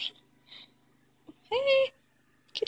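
A Bengal cat makes soft, brief vocal sounds close by, with short whimpering breaths and a slightly longer meow-like cry in the middle of an otherwise quiet room.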